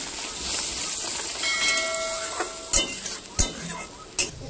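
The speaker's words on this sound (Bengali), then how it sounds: "এখন জল দিয়ে ভালো করে নেড়ে দেবো।" Poppy seed paste curry with added water being stirred in a pan, a steady sizzling hiss broken by a few sharp scraping strokes of the spoon, with no talking.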